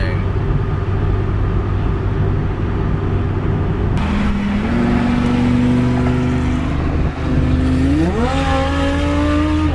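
A Ferrari engine roars loudly and close, holding a steady drone before climbing in pitch as it revs, with the sound sustained through the whole stretch and no voice over it.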